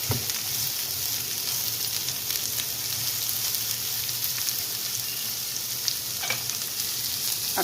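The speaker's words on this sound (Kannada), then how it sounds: "ಚೆನ್ನಾಗಿ ಮಿಕ್ಸ್ ಮಾಡೋಣ." Bitter gourd stir-fry with rice flour sizzles steadily in hot oil as salt is stirred through, with a few soft scrapes of the spatula standing out against the continuous close frying hiss.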